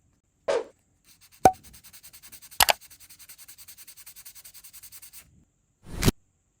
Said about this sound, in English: The surface is sanded down